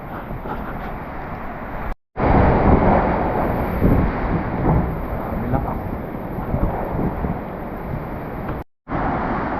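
Typhoon wind roars and buffets the microphone with a heavy rushing wash of pouring rain, continuous and loud apart from two brief dropouts.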